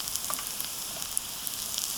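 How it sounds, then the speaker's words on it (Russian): Onion and carrot sautéing in a frying pan on an unsteady camp burner outdoors, giving a steady, soft sizzle with faint crackles throughout, alone and without talk. "Зажарочка готовится."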